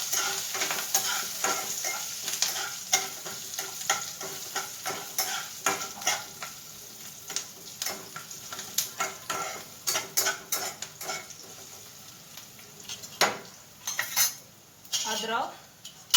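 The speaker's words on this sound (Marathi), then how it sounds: "अर्धा चमचा लाल तिखट, सगळं व्यवस्थितपणे फ्राय करून घ्यायचं आहे।" Rice with red chilli powder frying in a pan, a soft steady sizzle broken by frequent clinks and scrapes of a metal spoon stirring against the pan, close and busy, with no voices.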